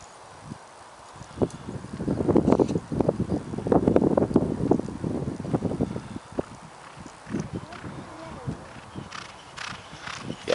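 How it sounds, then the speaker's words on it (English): Hoofbeats of several racehorses galloping uphill on Warren Hill, Newmarket, thud and drum closer, peaking in a dense flurry before fading, with wind buffeting the microphone throughout. "the horses are coming up the gallop now"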